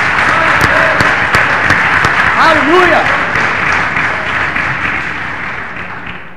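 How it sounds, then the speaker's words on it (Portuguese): Continuous, dense clapping from a large church congregation fills the space while a voice calls out over it; the applause slowly fades toward the end. "E vamos aplaudir ao Senhor juntos, porque Ele é digno."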